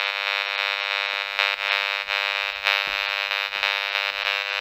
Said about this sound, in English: this is the sound of the Wi-Fi booster coming through my wall